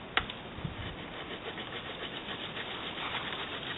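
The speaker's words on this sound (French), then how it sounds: "On va essayer de faire une dizaine de secondes et s'apercevoir de la découpe dans le bois." A Chinese copy of a Swiss army knife saw cutting through a piece of wood, a faint, steady rasping back-and-forth that carries on evenly after a small knock at the start.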